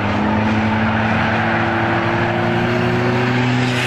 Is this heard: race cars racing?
yes